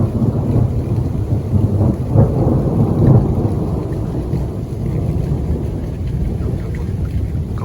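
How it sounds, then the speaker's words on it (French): Thunder from a storm rolling and echoing through a valley amid rain, loud deep rumbles with repeated cracks that resonate and slowly fade. "C'est pour ça que les orages sont spectaculaires, parce qu'ils résonnent dans la vallée."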